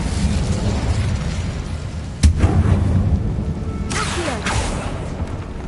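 The Incendio fire spell goes off in Hogwarts Legacy as a sharp burst followed by a roaring, crackling rush of flame over a low rumbling background, with a second whooshing surge a moment later.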